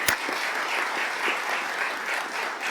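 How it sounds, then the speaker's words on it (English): Applause from an audience at a school board meeting for newly welcomed colleagues, a steady dense wash of many hands clapping close and fairly loud for about three seconds, with no voices over it. "let's give them just one more round of applause"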